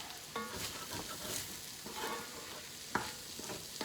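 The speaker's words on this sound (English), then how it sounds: "Give those spices a chance to just quickly heat up in the pan." Spices heat in a lightly oiled pan, giving a faint, quiet sizzle with a few soft clicks and scrapes of stirring.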